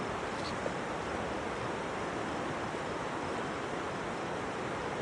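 A river flows near a riverside barbecue, a dense, steady rush of water that fills the whole stretch evenly at moderate level, with no talk over it.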